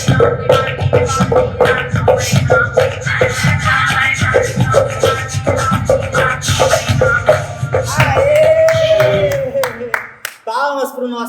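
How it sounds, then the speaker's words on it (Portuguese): Lively clapping from a group in an arts-and-education class cheering a dancer, rhythmic and close, mixed with voices and movement, ending in a short pause before talk resumes. "Palmas para o nosso amigo Alan."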